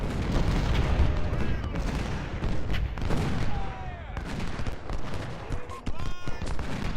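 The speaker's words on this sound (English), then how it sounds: "Oh, I think 1st U.S. Artillery is shooting at me." Heavy booming artillery fire rolls through a Civil War battle in the video game Ultimate General: Civil War, dense and continuous, with overlapping cannon blasts and crackling musketry rumbling steadily, while someone talks intermittently over the din.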